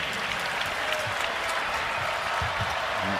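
An arena crowd at a men's college basketball game, NC State Wolfpack against UNC-Asheville, applauds and cheers a dunk with a loud, steady roar of clapping.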